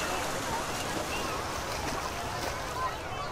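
Heavy sea surf rolls in continuously at a busy beach in Nha Trang, a dense, loud wash of breaking waves with no distinct pauses.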